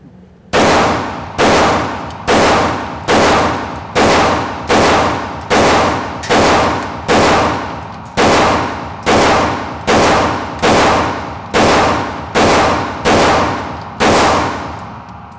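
A Taurus G3 Tactical pistol fired rapidly at an indoor shooting range: about sixteen loud, sharp shots in a fairly even rhythm roughly one per second, each with a short ringing decay, close and alone.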